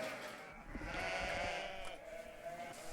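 A sheep bleats steadily and close by during shearing, its wavering cry continuing for a few seconds over faint farm background noise, with no talking.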